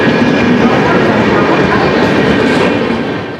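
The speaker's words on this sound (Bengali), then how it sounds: "কিন্তু এখন পাস হচ্ছে ডিব্রুগড় নিউ দিল্লি রাজধানী এক্সপ্রেস" Dibrugarh–New Delhi Rajdhani Express passing at Kamakhya Junction, heard as a loud, steady broadband rush of rolling wheels and rail noise close by, continuous throughout and easing slightly at the end.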